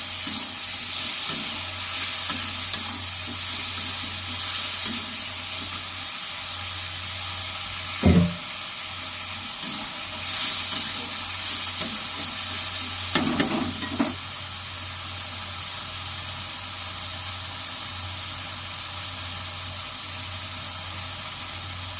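Tomato and green chillies sauté in a hot pan with a steady, even sizzle, broken by a few soft scrapes of stirring.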